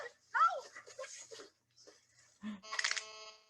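A person imitates a dog with short vocal yips, whines and a brief bark-like sound, ending in a bright squeaky tone; spoken voices can be heard around the imitation.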